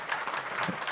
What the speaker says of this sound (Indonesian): Kita beri tepuk tangan dong untuk Ogi bisa hadir di sini